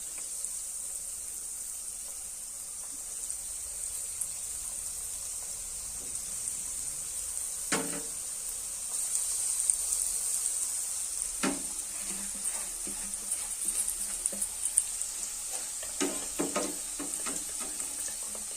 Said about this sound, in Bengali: আমি একেবারে 4-5টা দিয়ে ভাজছি